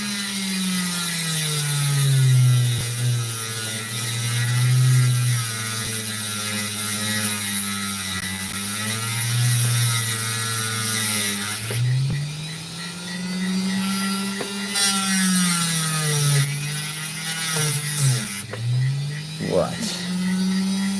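A Dremel rotary tool runs with a steady, high motor whine close by, continuing through the whole stretch beneath a low voice.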